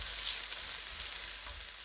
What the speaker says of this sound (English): while the onions are frying away